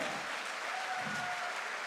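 A crowd at a direct-selling motivational event applauds steadily, a dense wash of clapping that stays even and fairly distant throughout.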